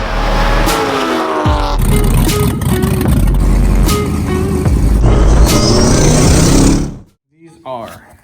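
C5 Corvette with Raybestos ST47 racing brake pads on a test drive, its engine droning loud and close with shifting revs, a voice talking over it, before the sound cuts away to near silence.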